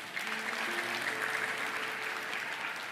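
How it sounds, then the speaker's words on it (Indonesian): A church congregation applauds steadily and densely during a sermon, the clapping loud and continuous throughout, with sustained low keyboard-like tones underneath. "Yang percaya kasih tepuk tangan bagi Tuhan kita."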